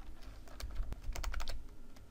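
Computer keyboard typing, a short burst of quick irregular keystrokes close up, with no talk over it.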